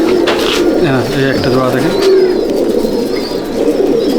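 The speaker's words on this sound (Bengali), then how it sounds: "এই যে পায়রাগুলো আপনাকে দেখালাম" Pigeons in a pigeon loft in Kolkata coo in soft, repeated rolling calls close by, while someone speaks briefly over them.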